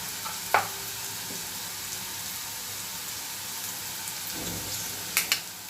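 Spices such as garam masala, byadgi chilli powder and red chilli powder being stirred into a vegetable bhaji in a pan, with a steady soft sizzle and a few brief scraping clinks of the spoon.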